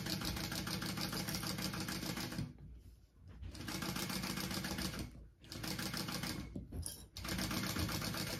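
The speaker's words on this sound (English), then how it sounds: "we are going to put those right sides together and sew at our full seam allowance with that." A sewing machine stitches a bag seam in long fast runs, a close steady whirring chatter that stops briefly twice before starting again.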